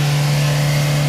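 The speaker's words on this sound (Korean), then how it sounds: "최고 RPM을 쭉 밟아봐." A car engine held near maximum RPM, producing a loud, steady high-revving drone with a strong sustained hum, close and continuous for a short moment without speech.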